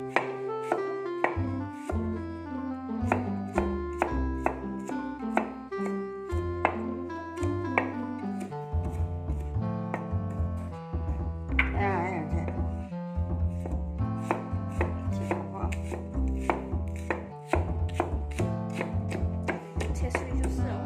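A knife chops food on a cutting board for a home-style belacan dish with dried shrimp and petai. Quick, regular chops keep going over tonal background music.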